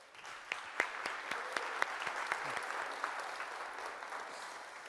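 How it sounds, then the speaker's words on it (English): An audience at the PyTorch Conference 2022 applauds its speakers: a quiet, steady round of clapping from a crowd with a few sharper claps near the start, fading slightly toward the end. "I want one more round of applause maybe for all of our speakers that came here today"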